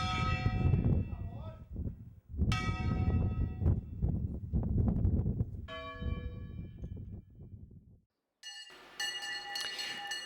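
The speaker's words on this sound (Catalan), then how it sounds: "La colla de campaners mostrà l'interessant llenguatge campaner, unes formes velles de tocar, sempre a mà" Church bells of the Assumption of Santa Maria bell tower in Ontinyent are rung by hand by bell-ringers in old traditional patterns, loud resonant strikes ringing out in bursts with lingering decays and a brief pause, a voice speaking over parts.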